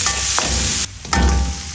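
Ginger and garlic sauté in a little hot oil in a pan, a loud, close sizzle that drops briefly mid-way as if stirred, then surges back.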